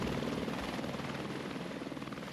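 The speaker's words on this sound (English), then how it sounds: "catch a helicopter directly to Lukla" A helicopter flies in the Everest region of Nepal on the way to Lukla, its rotor giving a steady rapid thudding over a loud continuous engine roar, close and with no talking.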